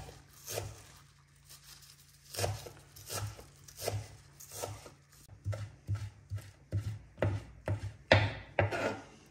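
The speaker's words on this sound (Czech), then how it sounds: "No a teď si ještě nakrájím takhle nadrobno tu pažitku." Knife finely chopping fresh chives on a cutting board, a steady run of soft close taps that grows slightly faster and louder toward the end, with no talking.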